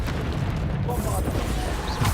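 A Bombarda spell explodes in Hogwarts Legacy, a thick, rumbling boom that fills the whole moment with a dense roar and debris, and a voice is heard over it.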